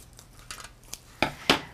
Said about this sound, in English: you're going to need to open this up with a pair of scissors